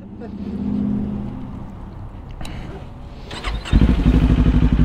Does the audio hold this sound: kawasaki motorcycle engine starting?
yes